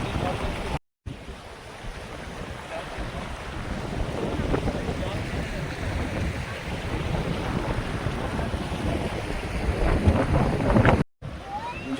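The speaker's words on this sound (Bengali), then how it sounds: "জলের স্রোত দেখুন" The strong current of the Jayanti river in the Dooars during monsoon makes a steady, broadband rushing roar, loud and continuous throughout with some wind buffeting and no talk.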